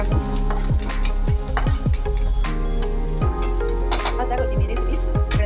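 Onions sautéing in hot oil in a home kitchen: steady loud sizzle with repeated scraping stirs of a spoon against the pan, about a dozen strokes in uneven rhythm, close up and with no talking.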